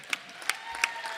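Sparse audience claps at an Environment & Climate Crisis Council event during the DNC in Chicago: four or five separate claps spaced evenly over about a second, fairly faint, with no voices.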